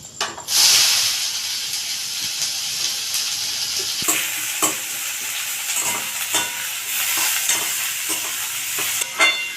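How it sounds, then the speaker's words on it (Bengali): Chopped onions hit hot oil tempered with five-spice, bursting into a loud, close hiss that settles into continuous sizzling frying, broken by repeated scraping strokes of a spatula. "এবার পেঁয়াজ কুচিগুলো দিয়ে ভেজে নেবো পেঁয়াজগুলোকে"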